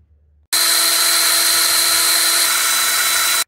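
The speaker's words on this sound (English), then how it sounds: "we're going to clamp these up and transfer drill those holes the same way" A power drill transfer-drills holes through a clamped telescoping tube, starting abruptly after a short quiet moment and running as one loud, steady, high-pitched whine for about three seconds before cutting off.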